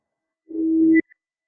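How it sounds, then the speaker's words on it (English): A tuning fork gives a single pure, steady ringing tone alone for about half a second, then cuts off abruptly into silence. "it's like the tuning fork's ringing the whole time"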